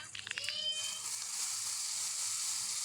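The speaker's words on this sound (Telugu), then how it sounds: "తర్వాత ఆనియన్స్ కూడా వేసి ఫ్రై చేసిన తర్వాత" Onions sizzle in hot oil with tempering seeds and two dry red chillies for palak ulli kaaram, a soft, even hiss with a brief rattle near the start.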